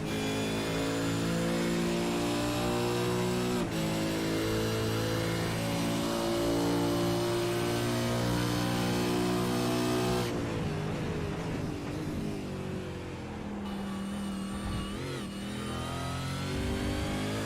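Supercars race cars accelerating around the Montreal circuit during qualifying, with loud sustained engine roar climbing through gears and shifting pitch as cars pass, continuous throughout.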